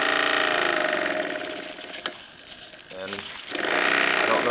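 An Opal single-cylinder, self-starting live steam engine running close by, with a dense, continuous mechanical chatter and hiss whose level dips briefly in the middle and then rises again.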